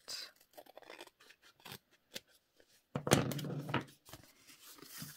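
Scissors snip through music paper in a series of short, close cuts, with one longer, louder crunching cut near the middle and quiet handling between snips.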